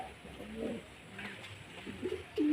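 A male pigeon kept at a home loft gives quiet, throaty coos, faint against steady background hiss, with a fuller rolling coo rising at the very end.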